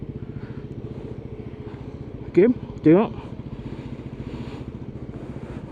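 A Peugeot Django 150 cafe racer scooter engine idles steadily at the roadside with an even low putter throughout, while someone speaks briefly over it.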